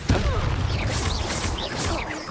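Bombarda spell blast from Hogwarts Legacy, a heavy booming explosion at the start followed by a sustained rumbling, crackling roar that stays loud across the moment, with no one speaking.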